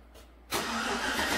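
A 2013 GM 4x4 truck engine cranks and catches after a quiet half second, then settles into a steady, moderately loud idle.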